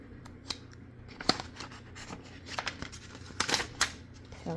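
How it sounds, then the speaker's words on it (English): Sublimation transfer paper is peeled off a hot 11oz coffee mug, giving soft scratchy tearing and crinkling with a few sharper crackles and snaps, fairly quiet and close. "peel off the paper."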